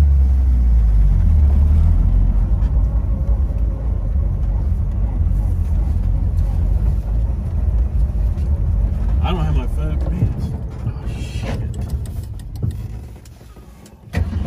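A 1966 Ford Mustang convertible idles with a steady, loud low rumble that softens toward the end before a brief bump, while people talk nearby.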